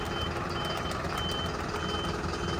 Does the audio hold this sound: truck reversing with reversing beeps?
yes